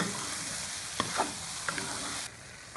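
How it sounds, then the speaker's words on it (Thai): A shrimp stir-fry with curry powder is stirred in a hot pan, giving a steady close sizzle with a few scraping clinks; the frying noise drops sharply near the end. "ปิดไฟเลย แล้วคนนะครับสองทีเสร็จเลย"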